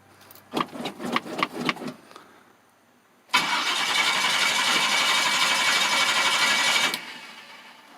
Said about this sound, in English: she's spinning over fast, building good oil pressure as it's cranking